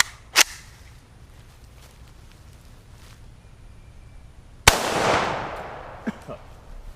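A single shot from a wooden-stocked WASR-10 Romanian AK-47 rifle, a sharp loud crack followed by a decaying boom outdoors, preceded by a brief click and then quiet.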